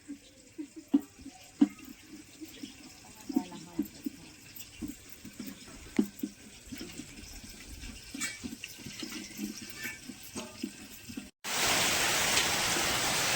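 Plentiful water flowing, heard as a steady running wash with scattered splashes and knocks, close and continuous, ending in a loud broadband rush of water.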